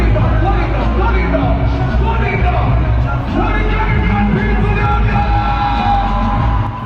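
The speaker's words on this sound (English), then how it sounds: "The crowd went off when he branched out to perform his own hit single" A large concert crowd roars, whoops and yells for a dancehall artist as he performs his hit single, a loud, unbroken wall of cheering throughout.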